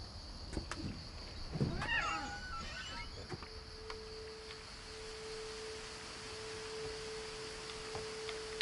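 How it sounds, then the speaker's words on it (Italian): A cat meows faintly, once or twice, early on in the video game What Remains of Edith Finch, over a quiet ambient hum. A steady low tone and a thin windy background follow. "Rumore di gatto."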